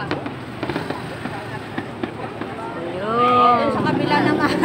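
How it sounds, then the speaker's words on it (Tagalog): Fireworks over a stadium during National Day Parade 2023, with a steady series of distant crackles and pops, heard from a crowd with people talking nearby and a rising whistling tone toward the end. "ang fireworks sa stadium naman guys"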